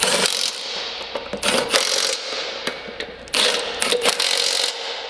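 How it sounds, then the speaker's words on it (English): Battery-powered hand tool used during forestry equipment assembly, giving a series of short mechanical ratcheting bursts and clicks with brief pauses, close and moderately loud. "I have this kind of hand tool. This is very practical because it's with battery"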